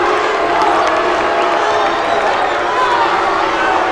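Green Canyon crowd roaring and cheering in a high school gym during a basketball game against Stansbury, a constant loud wash of shouting voices close around.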